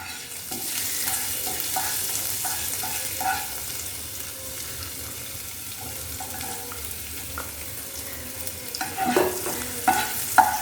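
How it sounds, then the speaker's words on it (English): Finely chopped ginger and green chilies are dry roasted in a pan, with soft continuous sizzling broken by repeated scraping stirs that grow louder and more clattery near the end. "So first we'll dry roast both ginger and green chilies"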